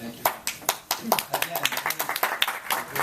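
Scattered audience clapping at a commissioners' meeting, sharp uneven claps from several people at close range, with talking mixed in.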